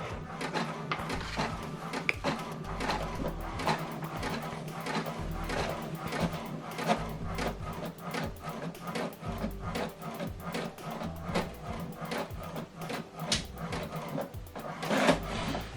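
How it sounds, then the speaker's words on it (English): An HP printer prints a document with a continuous rhythmic mechanical whir and steady clicking, heard close by at moderate volume. "Okay, the second one is printing."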